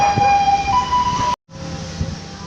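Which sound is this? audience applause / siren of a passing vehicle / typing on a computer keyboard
siren of a passing vehicle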